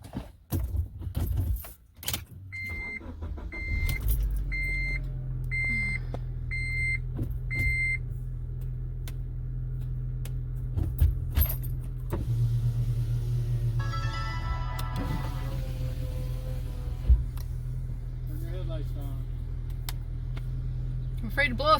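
Car being readied for a short drive: keys jingle and a door clunks, a string of warning beeps sounds, then an engine starts and settles into a steady idle hum with rattles, while a voice speaks briefly.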